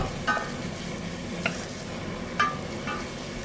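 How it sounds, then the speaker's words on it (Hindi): Finely chopped cabbage and other vegetables stirred in a hot pan, with a steady sizzle under a few distinct scraping strokes of the spoon against the pan, close and alone. "अच्छे से हम ये मिक्स कर लेंगे।"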